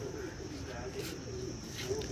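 Pigeons coo in a loft, low throaty rolling calls repeating close by over a steady background hum, with a voice briefly audible amid the birds.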